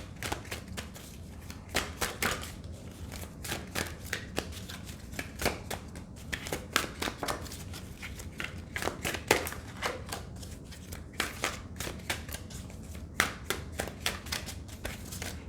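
Tarot cards are shuffled by hand in rapid riffling bursts, a dense run of sharp papery flicks and slaps repeating throughout, close and dry with no voice over it.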